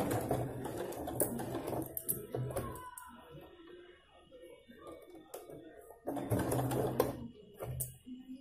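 A sewing machine stitches a baby chaniya choli in two close bursts of rapid needle clatter at the start and end, with a quieter stretch between them where someone talks softly.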